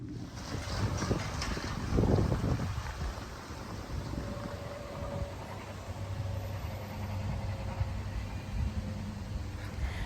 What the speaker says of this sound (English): You can see how the clouds are moving and how windy it is